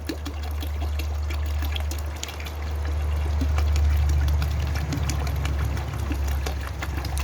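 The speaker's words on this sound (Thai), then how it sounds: "ใส่น้ำเขียวลงไปเลยครับ อันดับแรกหัวเชื้อใส่ลงไปเลยครับ" Green water starter culture being poured into a tank for rearing water fleas, a steady close stream of water over a constant low motor hum, with no talk.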